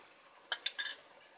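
A spoon clinks three times against a pan while mixing coriander powder and Kashmiri chili powder for an egg dish; the taps are short, quiet and close.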